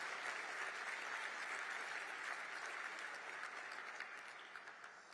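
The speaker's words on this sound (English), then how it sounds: "Sure, applaud my family." Sustained audience applause at a Washington, D.C. gala, a dense, steady wash of clapping from a large crowd that holds for several seconds and thins slightly toward the end.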